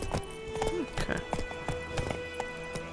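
Roach, Geralt's horse in the video game The Witcher 3, clip-clops along with steady hoofbeats and a brief whinny, while talk and game sounds run over the top.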